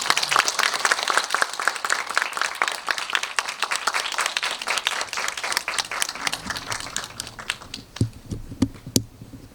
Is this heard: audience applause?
yes